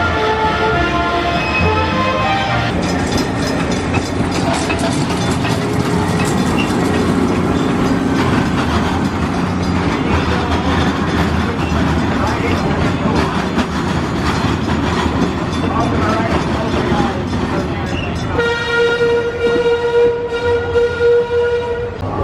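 An amusement park train ride at Six Flags Fiesta Texas in San Antonio rumbles along the track with steady clickety-clack, bracketed by tonal horn or whistle blasts at the start and end, loud and continuous throughout.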